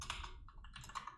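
A few quick computer keyboard keystrokes, soft and close, a short burst of clicky taps with brief pauses between them.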